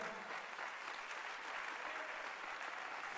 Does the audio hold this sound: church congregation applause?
yes